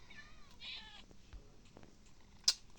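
A cat meows once with a drawn-out, wavering cry, followed by quieter rustling and a sharp click near the end.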